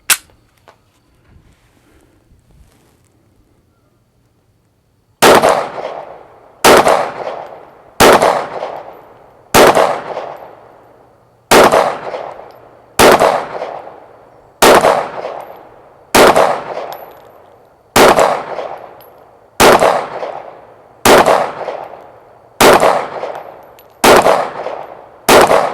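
Thirteen or so sharp, loud gunshots from a 9mm pistol firing 115 grain hollow point rounds ring out at a steady pace about every one and a half seconds, each with a brief ringing decay, after a few seconds of near silence.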